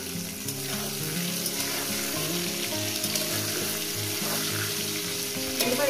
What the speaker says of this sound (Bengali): যতক্ষণ না পটল আর সুন্দর করে ভাজা হয়ে যাচ্ছে ততক্ষণ আমি এটাকে ভাজতে থাকবো।